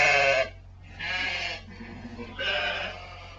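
Ewes being sorted into old and young groups before lambing give three loud, drawn-out bleats, close by and separated by brief pauses.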